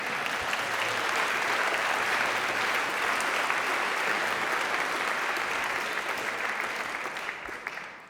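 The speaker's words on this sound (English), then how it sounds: "yes, please, applaud" A ceremony audience at the Gramophone Classical Music Awards in London breaks into dense, sustained applause that stays loud and steady for several seconds before tapering off near the end, with no voices over it.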